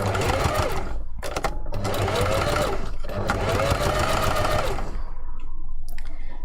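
A sewing machine runs in close bursts stitching a fursuit hand paw seam with a 5mm allowance, its rapid mechanical whir stopping and restarting a few times, with a voice speaking briefly.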